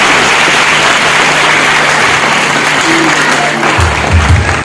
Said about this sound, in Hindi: जोरदार तालियां हिमांगी के लिए बजाइएगा